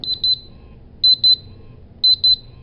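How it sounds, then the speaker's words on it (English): A RAE Systems QRAE II gas detector sounding its alarm during calibration: three bursts of rapid high-pitched beeps, each a quick double or triple chirp, repeating about once a second, loud and close over a quiet background. "it'll go into alarm here"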